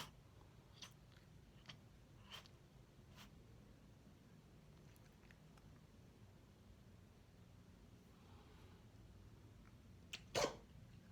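In a quiet room with a few faint clicks and rustles, one short, sharp sneeze bursts out near the end.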